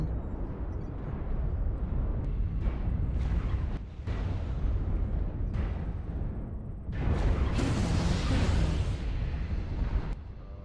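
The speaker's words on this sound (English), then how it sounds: "ammo explosion detected" Heavy, sustained explosive rumble and crackling blasts from a mech's ammunition exploding in the video game MechWarrior Online, loud and continuous with a brief dip before a stronger burst near the end.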